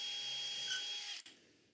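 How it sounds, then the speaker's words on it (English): A power drill whines steadily through a JessEm dowel jig, boring a dowel hole in a wooden shelf, then spins down and stops near the end. "So I put it on my first dowel, and drill it out."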